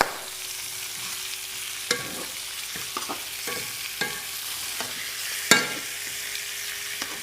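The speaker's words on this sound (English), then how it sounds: "so we'll turn this pork over." Pork sizzles softly in a frying pan after being turned over, a steady low crackle with a few sharp clicks and scrapes from the pan and utensil, with no talking.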